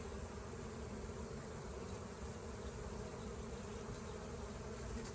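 Honey bees swarm between two hives during honey extraction, their steady, dense buzzing filling the air continuously and fairly close, with no talk over it.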